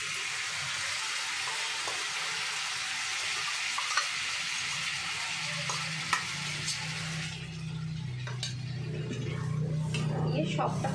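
Curd with chilli and poppy seed paste being mixed into a cooking pan, with wet stirring and scraping over a low sizzle, a few clinks of the utensil, and a voice talking in the background.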